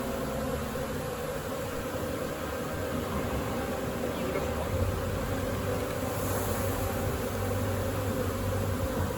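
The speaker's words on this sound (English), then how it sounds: "First swarm for me of the season. Loving it. What a great way to start. They're coming this way." A swarm of honey bees fills the air with a dense, steady buzzing drone, loud and continuous, like many insects flying close around the listener outdoors.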